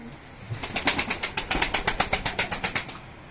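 Pigeons in a loft make a quick run of about fifteen rhythmic, close wing flaps or claps, evenly spaced over a few seconds against quiet room noise.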